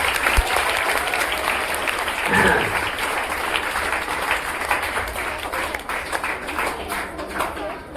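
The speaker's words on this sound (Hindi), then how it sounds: "तो एक बार जोरदार ताली से जो है तैयारी हो जाए।" An audience at a Teachers Day celebration in a coaching centre in Barbigha, Sheikhpura, breaks into loud, sustained applause, with dense clapping filling the room and a few voices faintly mixed in.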